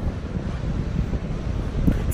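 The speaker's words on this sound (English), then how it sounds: "It's really windy and cold today." Strong wind buffets the microphone on a cold Corpus Christi beach, a steady low roar with surf faintly underneath and no talking.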